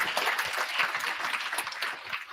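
Audience at a Python Christmas meetup applauds, a steady wash of many hands clapping at moderate loudness, tapering slightly toward the end.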